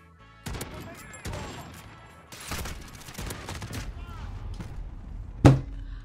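An MK2 Carbine fires single shots in Call of Duty Modern Warfare, several sharp, spaced reports with a louder, punchy blast near the end, set against game ambience.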